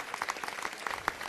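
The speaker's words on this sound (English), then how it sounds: "Give them a round of applause for the best overall Eldorado." Applause rises from the audience at a city council meeting as a parade group is honored for best overall, a short burst of scattered, distinct handclaps from a modest crowd, heard without talk.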